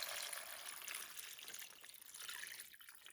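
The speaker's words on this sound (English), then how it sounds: "Let's add the water" Water poured into a skillet of sausage with red beans and rice mix, a faint continuous trickling and splashing stream lasting a few seconds, no talking.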